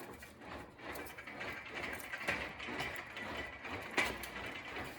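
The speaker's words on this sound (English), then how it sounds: "anytime you use the English wheel, when you run it in here, you want to kind of put some pressure down" Sheet metal rolled back and forth through an English wheel, a continuous close grinding and rumbling roll with faint metallic squeaks, swelling and easing as the panel passes.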